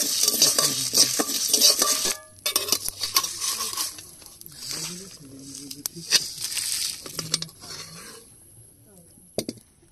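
Spices stirred in an overheated kadai, with scraping and clinking of a utensil against metal in irregular bursts and a soft sizzle underneath.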